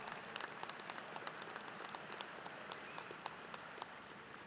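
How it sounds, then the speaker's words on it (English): A standing audience at a 2018 high school graduation ceremony gives a long round of dense, continuous applause with scattered sharper claps, heard from a distance at low volume. "Graduates, let's give them a big round of applause."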